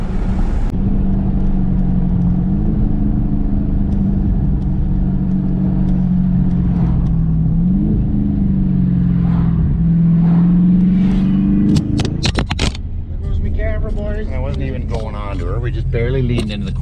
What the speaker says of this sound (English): Put the pedal down there, give you guys a couple rops of the old exhaust system.